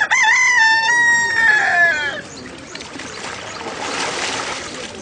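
A rooster crows once, loud and close, in a long drawn-out call lasting about two seconds outdoors at an early-morning riverside baptism, followed by softer background noise.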